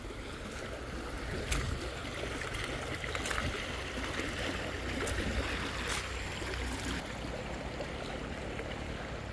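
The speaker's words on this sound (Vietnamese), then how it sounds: "nước suối này nó chảy mạnh quá mọi người ơi" A strong mountain stream in Làng Nủ rushes continuously, a dense broadband wash of water at steady loudness with no voices over it.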